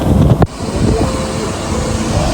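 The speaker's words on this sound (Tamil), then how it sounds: "இந்த காற்று" A gusty wind rushes over the Bambarakanda hilltop near Haputale, giving a loud, steady rumble with a sharp buffet on the microphone early on and no voices.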